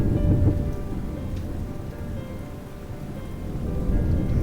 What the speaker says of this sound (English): A storm above now set it raining